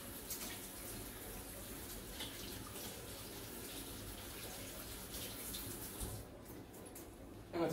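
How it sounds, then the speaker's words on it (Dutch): Running tap water pouring steadily into a sink during handwashing with soap in a home kitchen, a continuous soft hiss and splash that stays even and fairly quiet throughout, with a small bump at the end. "gaan we eerst even onze handen wassen"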